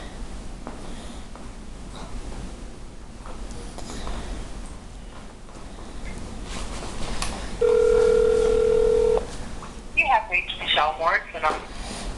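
Telephone dialing for a prank call: a steady dial tone holds for about a second and a half near the end, followed by a quick run of key beeps, all over constant background noise and muffled voices.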